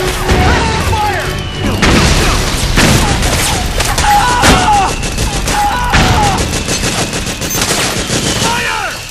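Dense gunfire in Metal Gear Solid 4: rapid machine-gun bursts and single shots with booms and impacts, loud and continuous, with shouted voices in the mix.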